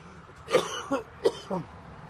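A few short throaty coughs or throat-clearing bursts in quick succession, close and fairly loud, with quiet pauses between them.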